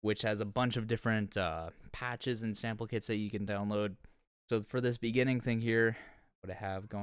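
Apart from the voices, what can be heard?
None of the usual background noises is heard.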